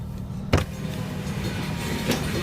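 ELS 502/1221 train rolling past a highway crossing, picked up from inside a nearby car: a low continuous rumble with a couple of sharp metallic clunks, moderately loud, with no voices.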